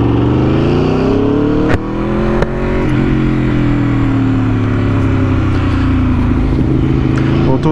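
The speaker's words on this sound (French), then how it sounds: "Pouah, ce bruit de V4" A loud V4 motorcycle engine revs continuously, its pitch rising and falling with a couple of sharp gear-shift blips, close and dominant throughout.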